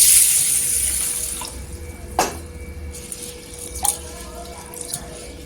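Mung dal rinsed with water in a pot, a gush of running water at first that settles into quieter swishing with a few distinct splashes and drips, no talking.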